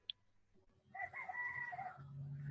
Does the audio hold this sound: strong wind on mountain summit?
no